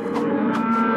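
Several cows moo loudly and close by, their long low calls overlapping continuously with no pauses and no talking.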